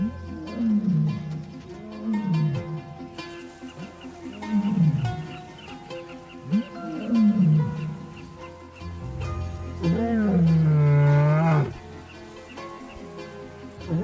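A coalition of nomadic male lions roars in a river valley, deep swooping calls repeating in rhythmic series and echoing, fairly close and loud over a low background rumble, with no voices.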